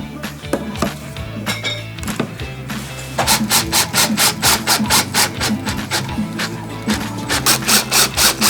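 Wooden deck posts being cut to length during a rotted-post replacement: a few scattered knocks, then a steady run of loud, rhythmic saw strokes, close up, with no talking.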